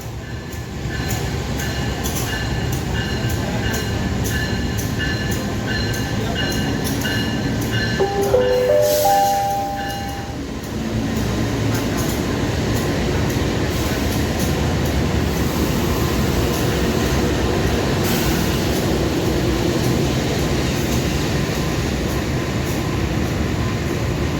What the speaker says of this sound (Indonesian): Ini ada kereta api Pandalungan dari stasiun Jember tujuan Gambir via Surabaya Semarang.